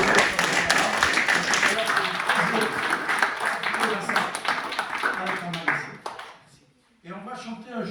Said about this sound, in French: je veux t'applaudir